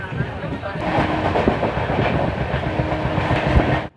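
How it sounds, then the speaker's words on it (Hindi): A Humsafar Express train races at full speed past a junction, heard from on board. A loud, dense rumble carries rhythmic clickety-clack from the rails throughout, then cuts off abruptly. "इस वक्त ट्रेन ढोलपुर जंक्शन को अपनी पूरी रफ्तार में स्किप कर रही है"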